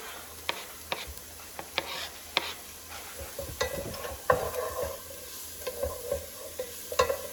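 Mushrooms hit a hot pan with garlic for cauliflower rice risotto, sizzling steadily while a utensil stirs and scrapes in several sharp, close knocks and clatters.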